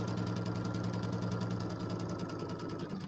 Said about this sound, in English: we're going to sew these on. Again, our 1/4 inch seam here